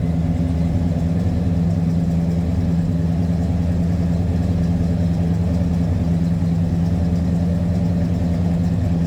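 A 1966 Pontiac GTO with a 389 V8 idles while warming up at a slightly raised idle, giving a steady, loud, close low rumble throughout.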